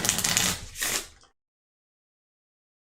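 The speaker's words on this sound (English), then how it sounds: "So what I'm gonna do is I'm gonna shuffle these up." A deck of game cards for the Dice Throne Adventures board game being shuffled by hand, two quick riffling bursts, close and crisp, then silence.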